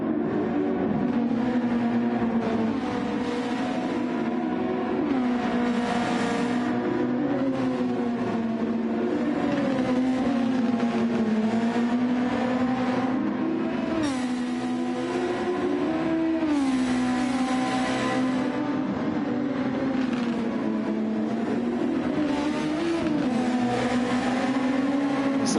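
Race cars run at Watkins Glen in a racing video game, engines droning and revving loudly throughout with shifting pitch as cars pass and accelerate, and no talking.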